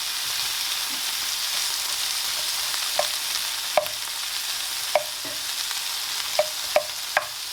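Tomatoes fry with a steady broadband sizzle in a pan for egg biryani, while a utensil stirs through them with several sharp scraping knocks near the end.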